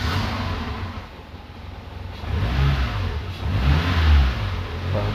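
A Renault Clio 1.2 16v engine runs close and loud, idling then revving in two or three swelling bursts with a steady low rumble underneath.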